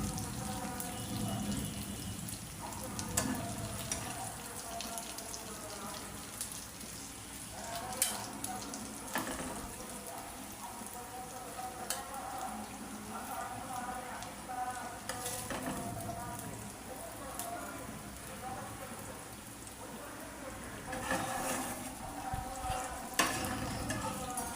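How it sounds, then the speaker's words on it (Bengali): Fish frying in a pan, a continuous moderate sizzle and crackle of oil running throughout with scattered pops and stirring scrapes, fairly faint and steady over about twenty-five seconds. "মাছগুলো আমি এইভাবে খাওয়ার জন্য ভাজি করছি।"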